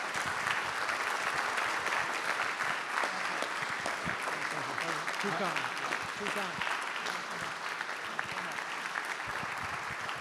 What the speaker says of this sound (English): please, everybody, give a hand of applause for Manuel Diaz, recipient.